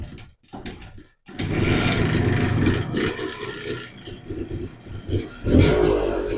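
An old Minsk motorcycle engine with a low-set carburetor float sputters briefly, goes quiet, then catches and runs with an uneven mid-pitched clatter, revving up near the end.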